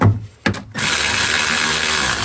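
A power tool drives a bolt on the air filter housing of a Hyundai Tucson. A short clatter of metal comes first, then a steady, loud, high-pitched whir that runs to the end.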